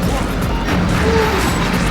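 Forward smash attacks land in a Super Smash Bros. tournament match, dense crashing impacts and game effects under a continuous crowd and commentary wash, loud and busy throughout with no clear break.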